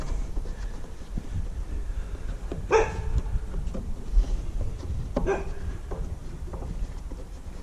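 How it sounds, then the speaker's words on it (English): A dog barks outdoors in windy conditions near a wood chipper being repaired, two distinct barks spaced a few seconds apart over a rough, gusty background rumble. "My dog's barking at God knows what."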